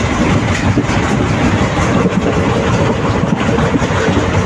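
A train runs past on the Tenkasi to Tirunelveli line, a loud dense roar with rattling wheels on the rails and faint clatter throughout.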